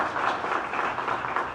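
An audience at an evening lecture applauds Dr. Odilón González Hernández: a short, steady wash of many hands clapping at moderate loudness, even and unbroken, with no voices over it.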